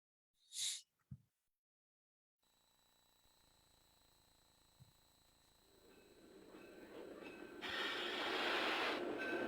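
Lackawanna passenger train running at speed on the west end of the railroad, a steady rolling rumble that swells louder toward the end as it closes in, after a couple of short knocks at the start.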